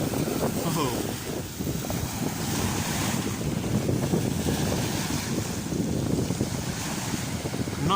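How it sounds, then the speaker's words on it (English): Big sea waves surge and break along the shore at Southsea during a solar eclipse, a steady loud roar of surf mixed with heavy wind buffeting the microphone throughout, with a voice briefly heard. "Oh, some big waves coming."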